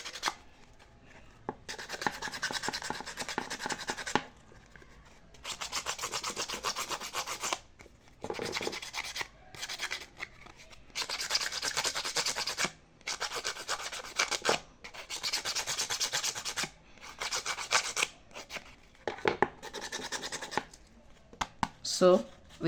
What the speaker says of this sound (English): I'm going to also try to roughen these edges too,